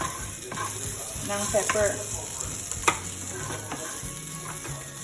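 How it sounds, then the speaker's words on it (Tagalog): Shrimp for salt and pepper shrimp stirred and frying in a pan, a steady close sizzle with scraping stir strokes throughout, a sharp clink near the three-second mark, and a brief murmur of speech. "stir mo na hanggang ma-well coated yung shrimp"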